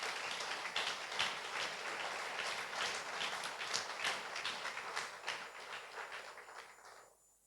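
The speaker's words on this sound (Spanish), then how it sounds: "Denle un aplauso al Señor" A church congregation bursts into dense, continuous applause during a sermon, a close crackle of many hands that holds steady, then thins and fades away in the last second.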